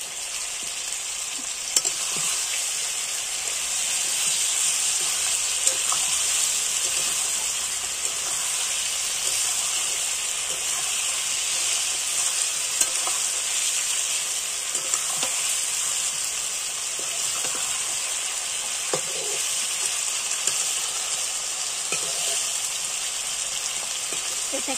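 Potatoes fry with chicken in a hot pan, giving a steady loud sizzle and hiss throughout. Occasional scraping stirs and soft clinks break through now and then, with no voices.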